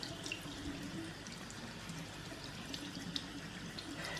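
Tap water runs steadily onto a shirt during bleach tie-dye, a soft continuous splashing and trickling with no clear breaks, fairly quiet and close by.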